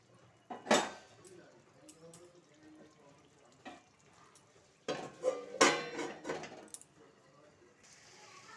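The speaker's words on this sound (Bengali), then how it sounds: "আরও একবার আমি ঢাকনাটা তুলে দিলাম" Metal pot lid lifted and set back on a pan while cooking Bengali lau posto, a few sharp clanks and clatters separated by quiet gaps, close and fairly faint.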